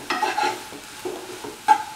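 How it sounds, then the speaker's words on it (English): Grated carrot being stirred and sautéed in ghee for carrot halwa, a few short scraping, sizzling bursts from a spoon moving through the pan, close and fairly quiet with small gaps between strokes. "Keep on sauteing in the ghee"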